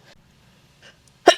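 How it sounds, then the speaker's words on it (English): A single sharp sneeze bursts out at the very end, right after a strong-smelling makeup setting spray is used, following a quiet stretch with a couple of faint breaths. "Always makes me sneeze."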